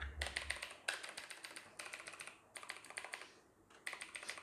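Fast, clicky typing on a Corsair K70 Mk2 mechanical keyboard with Cherry Blue switches, close up, in several bursts of rapid keystrokes separated by brief pauses.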